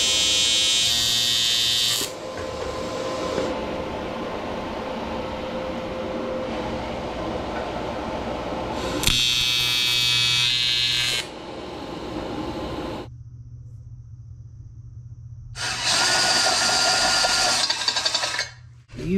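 TIG welding on aluminum produces loud, harsh, buzzing arc bursts while building a minibike fuel tank, with several separate bursts of a few seconds each broken by quieter gaps and a lower steady hum.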